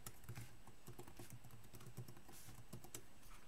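Rapid keystrokes on a computer keyboard while a password is typed, a steady run of close, crisp clicks with brief pauses between bursts, no voice.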